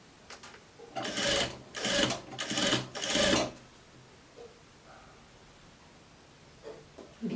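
A sewing machine stitches a dress shirt in four short, loud bursts of rapid whirring, separated by brief pauses, followed by quiet with faint handling sounds.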